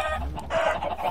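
Minecraft chickens cluck in the video game, a quick run of a few clipped, close clucks lasting barely a second, with no voices over them.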